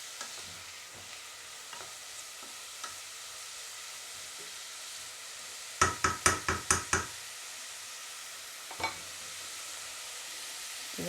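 Lentil bolognese sizzles faintly in a pan while a spoon stirs it, with scattered soft scrapes and then a quick, loud burst of about six rhythmic knocks against the pan. A lone clack follows later.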